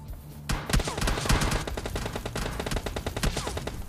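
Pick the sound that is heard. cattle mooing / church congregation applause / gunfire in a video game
gunfire in a video game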